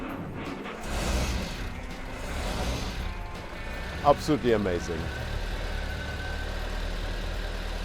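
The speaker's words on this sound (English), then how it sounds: "And this is how a start of an Orban 852 sounds." Engine of an Orban 852 classic car at a Lake Como car event being started and settling into a steady idle, a low continuous rumble under a crowd and someone talking nearby.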